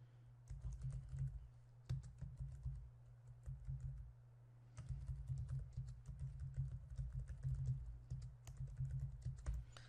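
Steady computer keyboard typing, close and fairly quiet, in two bursts of rapid key clicks with a brief pause near the four-second mark, no voices.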